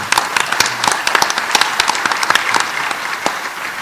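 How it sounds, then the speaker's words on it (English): Applause from a village community meeting audience, a moderate crowd clapping with sharp, uneven individual claps standing out above the steady patter, close and fairly loud throughout. "Give them an applaud,"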